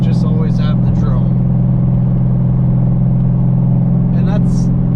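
A high-mileage, salvage-title Ford Mustang cruises at 65 mph, its exhaust laying down a constant low drone with road rumble. Faint voice-like sounds come and go over it.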